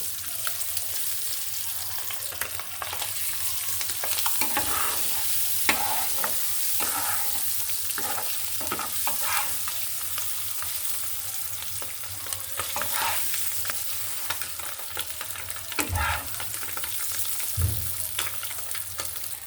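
Egg frying and being stirred in a pan for a home-cooked egg and potato bhuna, with a steady close sizzle and repeated scraping and clinking of the spatula throughout.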